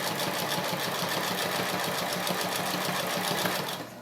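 A domestic sewing machine stitching a plastic bag, a fast steady mechanical whirring rattle running close and continuous for several seconds before easing off at the end.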